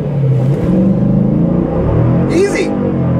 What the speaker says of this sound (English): Says to launch, press brake and apply full throttle.